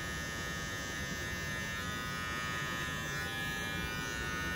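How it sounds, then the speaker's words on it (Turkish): An electric hair clipper runs in one continuous close, steady buzz, fading hair during a low fade haircut at a barbershop. "Bakın böyle makinayla şuradaki izleri"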